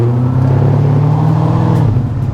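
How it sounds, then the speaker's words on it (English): A 2012 Corvette Grand Sport with Lingenfelter modifications drones loudly and steadily at a deep pitch, its throaty exhaust held at a constant rev for a couple of seconds. "I have been trying to listen to the awesome exhaust"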